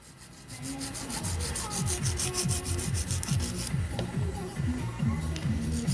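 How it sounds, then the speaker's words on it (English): A touch-up file rubs rhythmically along the sides of black acrylic nails, quick repeated strokes close up in a steady scraping pattern, with faint background voices. "take that touch-up file and detail those sides"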